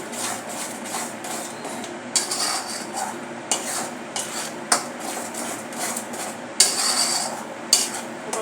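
Spoon or spatula stirs and scrapes garam masala, turmeric and Agri masala in a pan for a crab curry, making intermittent clinks and scraping strokes over a soft steady background, with no talking.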